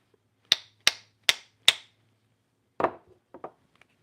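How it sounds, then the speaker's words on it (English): A hammer strikes four evenly spaced, sharp blows to seat a Japanese chisel onto its handle, followed by a heavier knock and a few lighter taps, close and clear in a quiet room. "Now I'm going to hammer it a little bit harder to make sure that this is getting fully seated."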